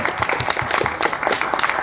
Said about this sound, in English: just give him a big round of applause and welcome Mr.